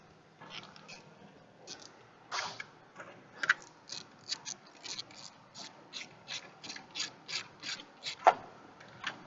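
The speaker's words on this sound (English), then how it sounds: "let me get my ratchet." A hand ratchet worked on a car in a repair shop, giving quick bursts of close, crisp clicking in an irregular rhythm of repeated strokes over a quiet background.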